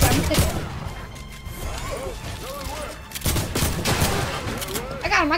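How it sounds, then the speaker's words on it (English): Rapid gunfire in a shooter video game crackles in dense bursts, with smashing impacts as a wall is shot out, while a player talks over the action. "They're shooting the wall out."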